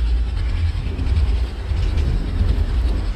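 Train rolling at about 110 km/h on a New Delhi to Rajgir express run in Microsoft Train Simulator, a steady dense rumble with faint rail clatter, continuous and fairly loud with no voices.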